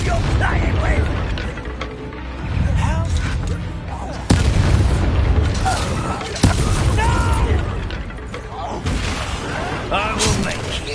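In the video game Hogwarts Legacy, Confringo fire-blast spells burst amid combat, with several heavy booming impacts and crackling bursts over rumbling battle noise, while a voice shouts over the fray.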